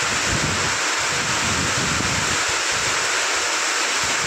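Loud, steady roar of heavy rain pouring down close by, dense and unbroken throughout with no voices.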